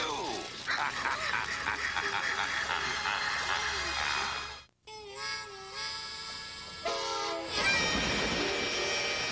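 A train rumbles and clatters past close by in a 1990s cartoon, with loud horn blasts and a screech of wheels near the end.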